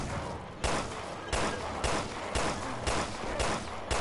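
Shots ring out in the video game Resident Evil Revelations 2, a series of loud, evenly spaced gunshots roughly every half second, each cracking sharply and decaying under a low ambient bed.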